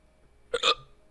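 A single hiccup, a quick double-pulsed gulp close to the mic against a quiet background.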